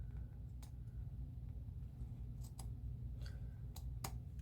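Scissors cut junk journal paper in a quiet room, making about half a dozen crisp, irregular snips over a faint low hum.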